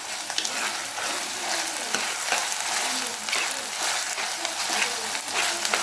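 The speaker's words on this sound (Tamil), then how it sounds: "இப்போ வெங்காயம் வதங்குறப்பையே இஞ்சி பூண்டு பேஸ்ட் இப்போ நல்லா வதக்கிக்கோங்க" Onions with ginger garlic paste sauté in hot oil for a Tamil chicken kulambu, a steady close sizzle with frequent scraping stirs, continuous and fairly loud.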